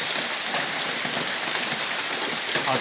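Heavy rain pours steadily on a rainy day in Bangladesh, a dense, continuous broadband hiss of drops on surfaces, close and loud throughout with no voices.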